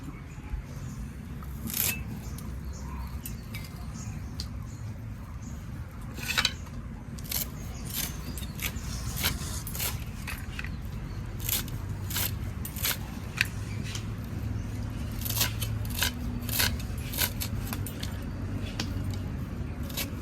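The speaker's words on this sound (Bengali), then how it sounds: "এবার খুব ভালো করে কুচিয়ে নেবো ধনেপাতাটা" Fresh coriander leaves chopped on a board for homemade fuchka, a long run of close, crisp knife cuts, mostly steady with brief pauses and a few sharper strikes, over a low background hum.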